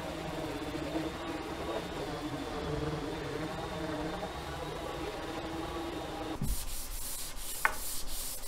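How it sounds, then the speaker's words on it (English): A power sander runs steadily over a mahogany wood yacht table, a close continuous rasping whir that stops abruptly after about six seconds, followed by quieter scraping and handling noise. "time for some sanding."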